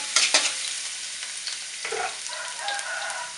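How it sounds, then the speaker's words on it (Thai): Garlic frying in oil in a pan for stir-fried bamboo shoots with egg, a bright, loud, continuous sizzle with a few crackling bursts at the start, nothing else heard. "จากนั้นก็กระเทียมลงไปเจียวนะจ๊ะ"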